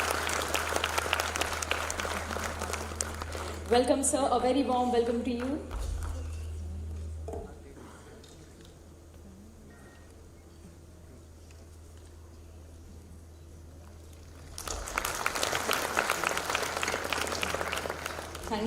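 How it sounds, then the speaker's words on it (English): Audience applause at a symposium on seafarers' recruitment and welfare, in two bursts of steady clapping separated by a quieter gap, with someone speaking a welcome over the first burst. "let's welcome him with a warm round of applause"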